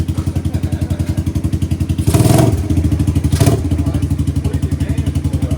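A 1986 Suzuki Quadrunner LT250EF ATV engine idles close by with a fast, even putter, and two brief bursts of clatter and thumps break in partway through.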